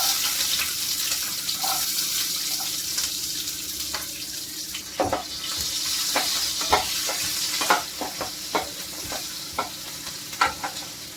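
Chopped onion sizzles in hot oil already seasoned with cumin and asafoetida, a continuous close frying hiss punctuated by sharp clinks and scrapes of a spoon stirring against the pan.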